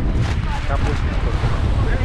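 Steady, loud wind on an island seashore buffets the microphone with a continuous rumbling roar, and a voice is faintly heard underneath.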